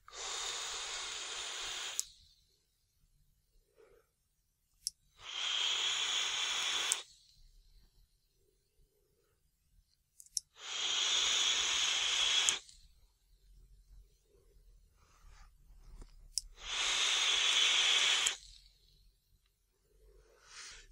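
Vapor is exhaled from a Phenotype-L dripper atomizer by Aria and Anarchist in four long, breathy hissing exhales separated by quiet gaps, close to the mic with no talking.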